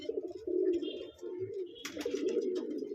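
A racing pigeon in a home pigeon loft coos in repeated low, throaty phrases close by, with a brief rustle partway through and no talk.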